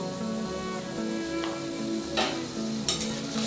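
Bottle gourd greens with salt, turmeric and water being stirred in a pan for a poppy-seed dish; a low steady hum runs under soft scraping strokes and a few sharper spatula scrapes against the pan, with no talking.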